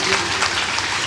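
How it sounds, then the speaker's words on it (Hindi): A crowd at a religious gathering claps in a dense, steady burst of applause for the volunteers, brief and fairly loud throughout. "एक बार सभी कार्यकर्ताओं के लिए जोरदार ताली बजा करके सबका अभिनंदन कीजिए।"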